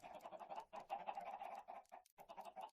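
Minecraft chickens clucking in the modded survival game, a dense run of quick, fairly quiet clucks and squawks from several birds with brief gaps between them and no talking.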